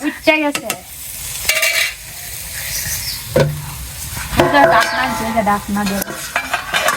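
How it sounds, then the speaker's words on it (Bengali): Bottle gourd and vegetables are stirred through sizzling fried spice paste in a village kitchen, with close, steady frying crackle and repeated scraping stirs that swell and fade throughout. "আচ্ছা মশলা কষানো হয়ে গেছে এখন সবজি দিয়ে ঘুটাঘুটি করা করবে"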